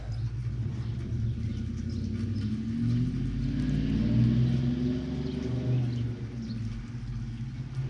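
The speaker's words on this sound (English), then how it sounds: "Gotta love the sound of those long tubes and off-road H-pipe." A 1990 Ford Mustang GT with long tube headers and an off-road H-pipe rumbles deeply as it drives away down the road, its exhaust note rising and falling steadily at moderate distance.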